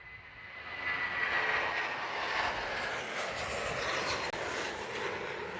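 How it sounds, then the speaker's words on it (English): A Boeing 757 airliner takes off from Houston's IAH airport, a steady, loud engine roar and rumble heard from a distance that holds strong throughout. "Here we go, it's the 757 off to Chicago O'Hare"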